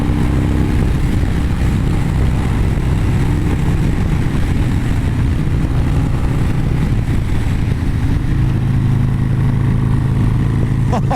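Motorcycle accelerating hard in third gear, a loud continuous engine roar heard from the rider's position, with heavy wind buffeting throughout.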